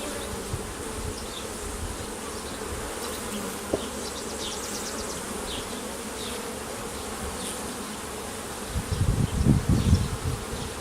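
Honeybees buzz steadily around an open hive during an inspection, a continuous close insect drone that swells louder near the end.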